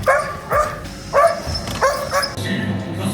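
Several dogs bark in short, loud bursts, four or five sharp barks with yips between them, close by at a seaside fish fry spot in Dźwirzyno, Poland, with people talking nearby.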